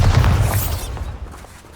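A Bombarda spell explodes in Hogwarts Legacy with a heavy, close boom and a bright crackling burst, then trails off into a fading rumble over nearly two seconds.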